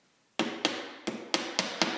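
A hammer taps a glued dovetail key into a wooden picture frame joint, six sharp ringing strikes at an irregular, steady pace, close and loud with short decays between blows.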